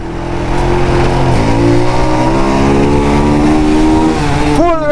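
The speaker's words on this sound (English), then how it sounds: "Full rev down there, boy." A motorcycle with a wide handlebar revs hard in heavy traffic at Half Way Tree, Jamaica: a loud, close, steady engine drone climbs in pitch and holds, then surges in a sharp rising rev near the end, with no talk.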